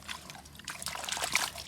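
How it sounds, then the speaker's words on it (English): Water poured over a toy garbage truck or sand dump truck during cleaning, a soft continuous trickle and splash close by, rising slightly toward the end with no talk. "Now I put some water."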